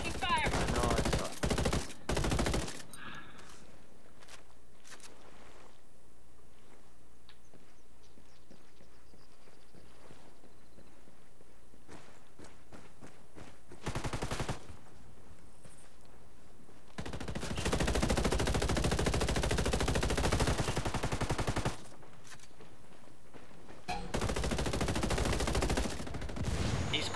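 Gunfire erupts in Ghost Recon Wildlands ranked PvP, coming as loud bursts of rapid automatic shots separated by long quiet stretches with faint ticking and movement sounds.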